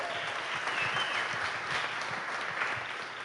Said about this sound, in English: Give them a round of applause real quick.